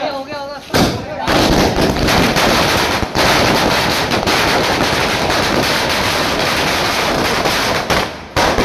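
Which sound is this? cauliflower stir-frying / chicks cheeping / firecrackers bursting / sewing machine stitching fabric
firecrackers bursting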